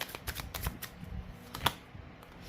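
Tarot cards being shuffled, a soft riffling patter of quick card flicks, faint and close in a quiet room.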